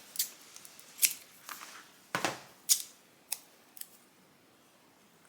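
Scissors make several sharp, close snips through a small piece of double-sided tape, irregular crisp cuts separated by short pauses.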